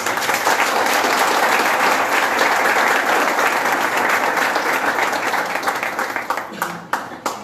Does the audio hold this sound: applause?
yes